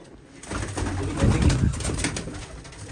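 Pigeons cooing close by in a home coop, a soft run of low, throaty coos that swells in the middle and then eases off.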